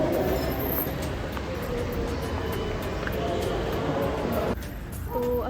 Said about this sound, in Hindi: तो अभी हम आ गए हैं Mayur Vihar pocket 1 metro station पे